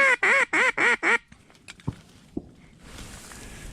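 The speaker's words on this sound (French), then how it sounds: "Encore des canards, toujours des canards." Migrating ducks over Minnesota in October call with five loud, rhythmic quacks close by, followed by scattered faint rustles and knocks.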